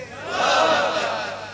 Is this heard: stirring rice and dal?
no